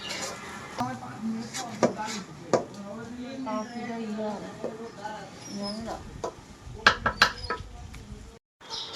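Polao rice being stirred and fried in a pot, with scattered light clinks and scrapes of a spoon against the metal and a low sizzle throughout, while someone talks over it.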